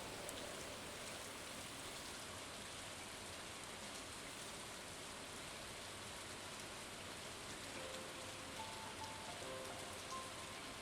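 Steady green rain in a video game pours down in a dense, even hiss, with a faint tonal chime drifting in near the end; no one talks.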